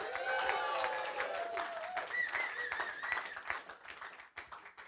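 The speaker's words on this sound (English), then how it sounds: "Give her a big round of applause" Audience applause at a hospitality industry talk in Adelaide, a room full of clapping that starts strong and thins out over several seconds, with a voice speaking over it.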